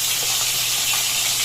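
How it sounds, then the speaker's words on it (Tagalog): Food fries in a pan with a steady, close, loud sizzling hiss that runs without a break and has no talk over it. "nagpiprito naman ako ngayon"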